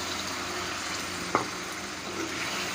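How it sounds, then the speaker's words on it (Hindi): Water poured into chana masala cooking in a hot pan with yogurt already added, giving a steady broadband sizzle and hiss with one sharp splash or clink midway; no talking. "अब हम इसके अंदर पानी डाल देना है"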